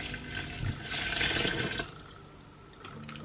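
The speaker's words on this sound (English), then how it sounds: "You now have to add 6 pints of water and simmer for 2 hours." Water is poured into a preserving pan holding sliced Seville oranges for marmalade, a brief splashing gush that stops abruptly after a couple of seconds, leaving quiet kitchen ambience.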